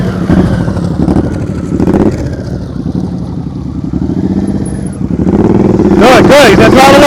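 A motorcycle engine revs up as the rider throttles during slow-speed practice, a loud rising drone with rumble, partly under an instructor's talk, climbing sharply near the end.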